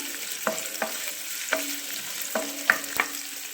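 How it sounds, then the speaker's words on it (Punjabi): Ginger and garlic hiss in hot oil while a spoon stirs them, the steady sizzle punctuated by sharp metallic scrapes and taps against the pan at irregular intervals. "ਅਦਰਕ ਪਾ ਹਿਲਾ ਦਾਂਗੇ ਜੀ ਇਹਨਾਂ ਨੂੰ ਥੋੜਾ ਜਿਹਾ ਭੁੰਨ ਲਾਂਗੇ"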